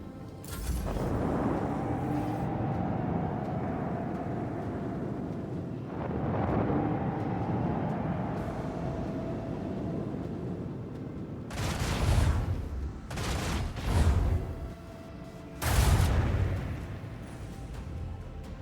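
Macro cannons fire in the video game Rogue Trader, a sustained rumbling barrage with several heavy booming blasts bursting out near the end, loud and close.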